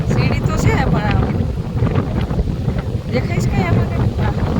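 A monsoon-swollen river in Sasan Gir rushes in a continuous loud, broad roar close by, with a person talking over the flowing water.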